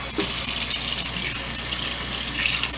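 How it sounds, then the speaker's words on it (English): A kitchen tap runs steadily while a freshly gutted fish is rinsed under it, a close, continuous splashing gush of water throughout. "So I turn on the water,"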